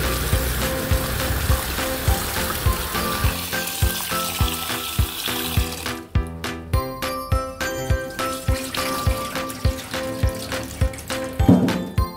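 Food is washed under running tap water in a kitchen sink, a steady close rush of water with rhythmic splashing and clinking pulses as the food is handled.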